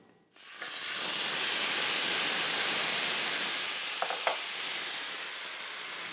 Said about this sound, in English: now all I need to do is add my pork to my skillet.